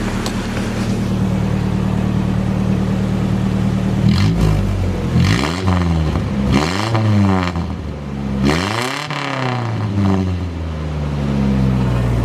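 A lowered, straight-piped Nissan 720 pickup with small exhaust leaks drives past, its exhaust droning steadily before rising and falling through several revving sweeps. It stays loud and close throughout, with no talking.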